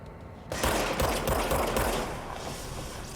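Video game gunfire bursting suddenly into a dense, loud volley of rapid shots that rolls on and slowly fades.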